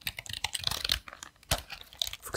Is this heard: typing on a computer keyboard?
yes